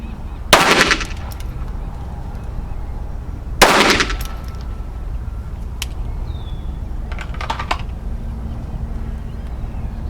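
Pistol shots from a KelTec P17 and a Sig P365XL fired at a target about 10 feet away: two loud, sharp cracks about three seconds apart, followed by a few fainter pops against a quiet outdoor background.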